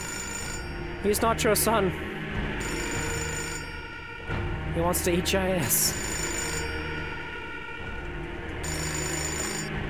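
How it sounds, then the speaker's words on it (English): A telephone rings repeatedly in the game Fahrenheit, its bursts cutting through a tense, music-laden scene while a voice talks over part of it. "Oh, that's an irritating phone call."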